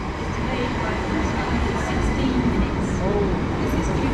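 A Southern commuter train to London Victoria rumbles past near Sutton, a loud steady rail roar with wheel noise throughout, and a voice is briefly heard under it.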